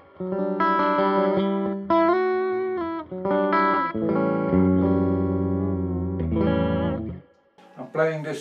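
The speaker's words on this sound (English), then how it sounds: "in the loop is the analog delay, nothing else in the loop, and there's a touch of reverb on the clean channel now" Clean electric guitar chords and single notes from a Kaufman-built Strat through a NUX reissue analog delay pedal in the effects loop, with light reverb on the clean channel, phrases ringing out then trailing into echoes, played alone.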